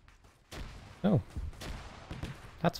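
Gunfire in a Warhammer video game: several sharp shots crack out at irregular intervals, a few louder than others, mixed with a voice speaking through the exchange.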